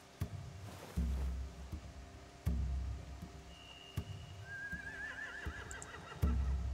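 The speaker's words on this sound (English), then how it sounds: "They have horses." Horses in The Walking Dead: The Final Season video game give several whinnies and neighs with rising, wavering calls, mixed with occasional hoof clops and soft thuds in a quiet game scene.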